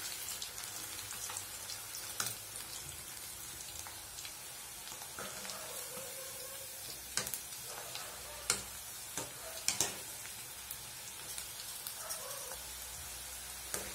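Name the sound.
cauliflower pakoda frying in oil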